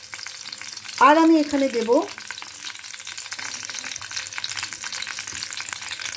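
Whole onion, garlic and ginger hit hot oil in a pan, followed by a steady soft sizzle of frying that continues under a faint voice.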